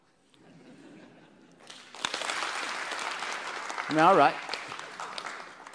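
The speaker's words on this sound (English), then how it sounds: "I just want you to do something fairly simple, which is just to clap your hands" A lecture audience claps hands together on request, a burst of fairly close, scattered clapping rising after a quiet start, with a short spoken interjection partway through.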